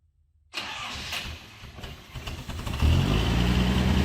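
A long-idle 1979 Datsun 280ZX is cranked and its engine catches after a starter whir, then settles into a louder, steady running rumble, close and with no talking.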